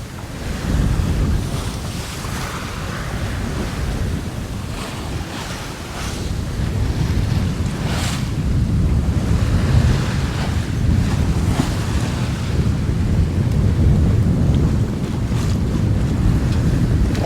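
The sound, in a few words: waves and wind while sailing boat under genoa and mainsail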